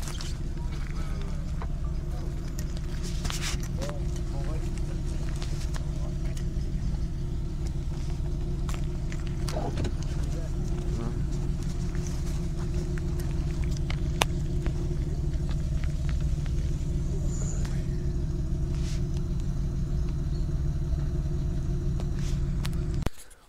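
A historic rally car idles and rumbles steadily at close range, a low continuous engine drone with scattered knocks and a few voices in the background.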